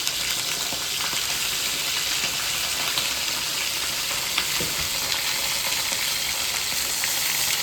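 Brinjal pieces fry in hot oil, giving a dense, continuous loud sizzle and crackle that holds evenly throughout without pause.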